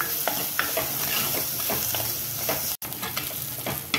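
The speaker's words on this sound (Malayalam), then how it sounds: "വെളുത്തുള്ളിയുടെയും ഇഞ്ചിയുടെയൊക്കെ പച്ച വാസന ഉണ്ടല്ലോ അത് പോണത് വരെ മാത്രം വഴറ്റി കൊടുത്താൽ മതി" Onion, garlic and sliced ginger sautéing in a hot pan, a loud steady sizzle with repeated scraping stirs and a brief break near the end, with no voices.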